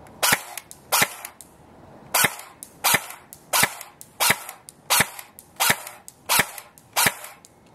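JG M4 airsoft gun firing semi-automatic shots outdoors, about ten sharp snapping cracks spaced roughly a second apart, close and loud against quiet background.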